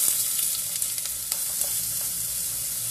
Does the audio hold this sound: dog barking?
no